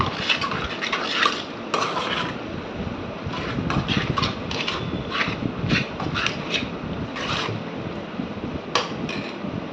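Cooked amaranth greens are mashed in a pot with a masher, producing repeated close knocking and scraping strokes against the pot in an uneven rhythm, with no talk.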